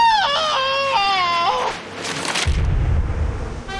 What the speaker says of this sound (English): Oh no, her head exploded.